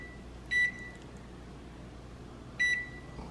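An oven being preheated to 350 beeps twice, two short bright electronic tones about two seconds apart, over quiet room hum.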